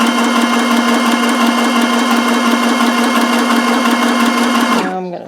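A sewing machine runs steadily on a straight stitch, close and loud with a constant motor whir, for about five seconds before stopping abruptly.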